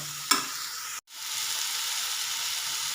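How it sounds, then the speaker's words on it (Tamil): Chopped pumpkin stirred and sautéed in a hot pan for a horse gram and pumpkin gravy, giving a steady close sizzle with a sharp clatter near the start and a brief drop to near silence before the frying hiss resumes. "இப்போ பரங்கிக்காய் சேர்த்து நல்லா வதக்கிட்டுங்க."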